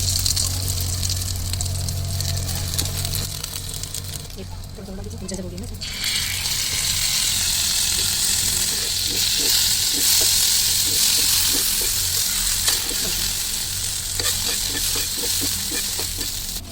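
French toast frying in cooking oil, a steady sizzle and hiss that swells louder partway through as the slice is turned, with faint clinks and stirring under it.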